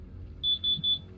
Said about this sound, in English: That alarm sound reminds me of the old alarms from Marshall Wireless days